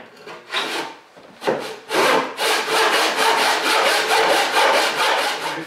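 Western back saw cutting through wood, with rhythmic rasping push-and-pull strokes close up that start slow and irregular and then settle into a steady, quick back-and-forth, loud and alone.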